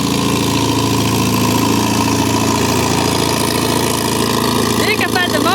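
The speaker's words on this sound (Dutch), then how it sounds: "Dikke vette motor." A big boat engine runs steadily near Can Tho, Vietnam, a loud continuous mechanical drone that holds throughout with no pauses.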